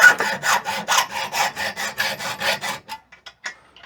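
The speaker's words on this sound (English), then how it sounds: "Copper pipe I usually cut with a hacksaw." A hacksaw cuts through soft copper pipe in quick, even back-and-forth strokes, about a dozen rasping passes heard close. The sawing stops and a few light clinks follow.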